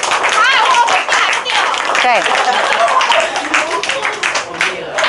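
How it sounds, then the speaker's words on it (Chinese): Middle-school math class applauding a student, a burst of clapping from the room with a teacher's voice speaking over it and a few other voices mixed in, loud and close. "厉害，给他一个掌声。"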